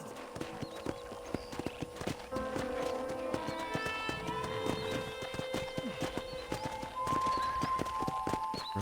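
Horse hooves clip-clopping at a steady walking rhythm in the Western video game Red Dead Redemption, close and continuous, with occasional whinnies, ranch ambience and faint speech underneath.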